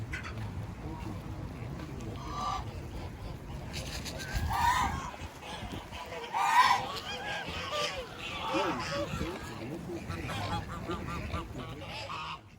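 Geese honk outdoors near water in scattered calls, some louder and closer, over a constant background murmur with voices talking.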